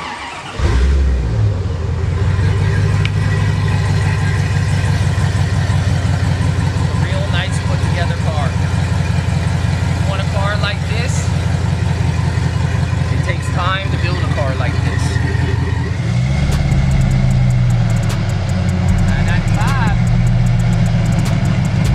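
A 1972 Chevrolet Impala engine cranks from a push-button start and catches, then settles into a steady idle, with a brief rise in revs near the end.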